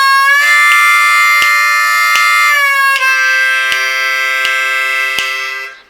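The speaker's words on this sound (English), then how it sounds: "I'm going to bend back down to the 4-draw bend and then play a 4-blow with a little bit of the" A C harmonica plays a lick from a song, a sustained, reedy chordal tone bending down to the 4-draw, then shifting to a 4-blow with the 5-blow bleeding in, over a steady ticking beat.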